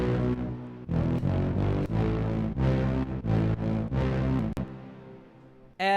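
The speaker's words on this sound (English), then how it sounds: "So we have a sort of darker preset from that Mono Sounds patch here" Dark, heavy synth brass preset from a Mono Sounds patch playing low notes alone, a run of loud sustained stabs and held chords with short gaps, ending in a brief fade and a final blip.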